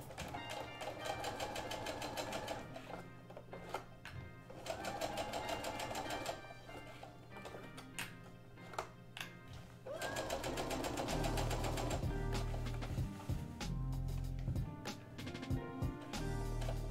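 A sewing machine stitches a sleeve seam on a cosplay mockup in repeated bursts, a steady mechanical whir that stops and starts, with a louder, heavier run near the end.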